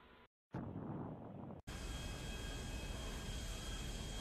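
A jet aircraft flies in the video game GTA V, giving a dense, roaring broadband rush of engine and wind noise that cuts out briefly twice early on, then holds steady and loud to the end.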